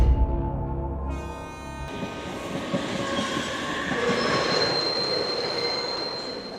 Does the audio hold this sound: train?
yes